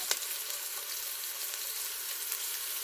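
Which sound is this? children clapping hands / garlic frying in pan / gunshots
garlic frying in pan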